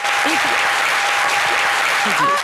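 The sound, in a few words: applause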